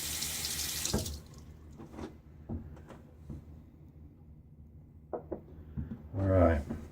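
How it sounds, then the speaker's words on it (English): A running tap rinses a shaving lather container, with a short gush of water at the start, quiet clinks and handling in between, and another brief splash near the end. "And now I'm going to rinse the container."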